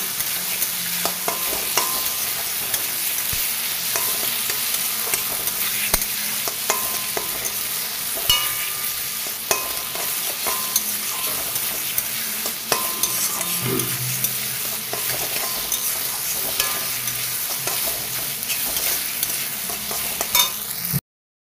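Ground spice paste stirred in a frying pan as its water cooks off, a continuous close sizzle broken by repeated scraping and tapping strokes of the spatula, steady throughout with no talk.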